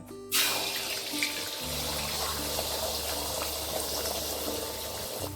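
Beaten eggs seasoned with salt and pepper hit hot oil in a pan and give a loud, sudden hiss. The sizzle keeps on, strong and steady.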